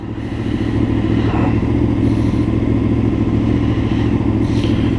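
A motorcycle with a non-V-twin engine lugging along slowly in sixth gear, a loud steady close engine drone with low throbbing pulses and wind noise, no speech.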